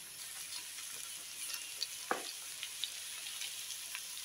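Spiced potato and okra being stirred in a hot pan, a steady soft sizzle with scraping spoon strokes and one sharper clatter near the middle, close and alone.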